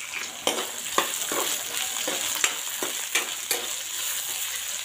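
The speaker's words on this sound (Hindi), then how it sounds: "तेल के अंदर 2 मिनट तक हल्दी को पकाएंगे।" Fresh farm turmeric fries in hot oil with a steady broadband sizzle, broken by several sharp scraping stirs. There is no talk.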